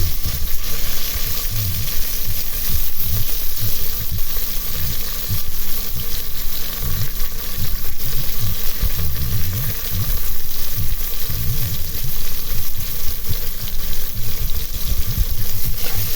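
Pork belly and onion fry together in a pan, giving a loud, steady sizzle with soft crackling throughout and no talking.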